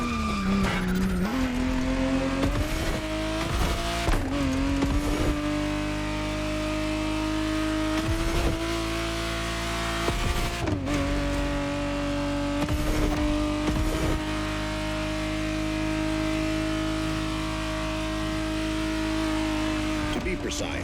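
1991 Ferrari Testarossa 512 TR driven in The Crew Motorfest, its engine revving and shifting up through gears with repeated tire skids and squeals, loud and close, while a voice talks over it.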